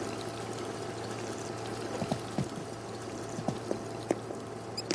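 Shower water running in Animal Crossing: New Horizons, a steady soft hiss of spray with a low hum and a few faint clicks and splashes, no speech.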